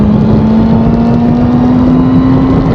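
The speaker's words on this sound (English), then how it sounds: "Let's just take a super sports bike out, the S1000RR." A BMW S1000RR super sports motorcycle engine, loud and close, holding a steady droning note that rises slightly before cutting off abruptly.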